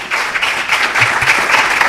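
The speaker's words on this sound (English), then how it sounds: "let's give a round of applause to Dr. Charles Quay." An audience at a quality-week event claps for an honored speaker, a loud, dense round of applause from a crowd that carries on evenly, with a faint voice or two underneath.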